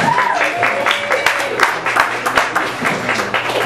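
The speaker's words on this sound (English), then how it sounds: "please give a round of applause for him." Audience at an evening event applauding, a modest scattering of claps with a few sharper individual hand strikes, somewhat near and uneven, and faint voices or tones mixed underneath.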